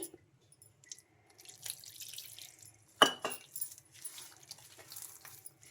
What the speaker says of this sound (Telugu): వాటర్ కాస్త కాస్త వేసుకొని బాగా కలిపేసుకోవాలి